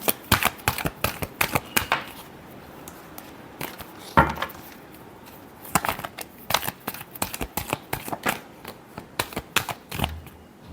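Tarot deck being shuffled by hand, with bursts of riffling and slapping card sounds in uneven clusters, close and crisp, with short pauses between.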